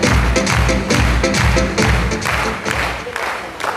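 An audience claps loudly and steadily in a hall, the beats rolling in a dense, even wash with a low thumping pulse underneath.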